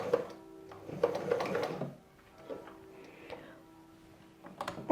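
A domestic sewing machine stitching a second seam through old denim jeans, a short rapid burst of needle chatter followed by quieter clicks and handling of fabric, close and fairly faint.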